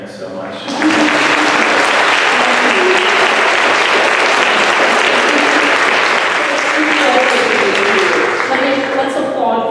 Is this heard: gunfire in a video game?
no